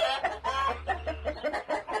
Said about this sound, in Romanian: Iar aceasta este o găinușă moțată